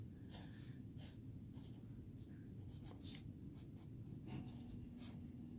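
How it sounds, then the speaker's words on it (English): A pen or pencil scratches out a math equation on paper by hand, producing quiet, close strokes in quick irregular bursts over faint background hum, with no talking. "So I'll just write that real quick."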